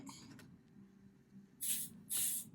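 Two quick, close hissing bursts of aerosol wig adhesive spray after a quiet moment with faint background rustling.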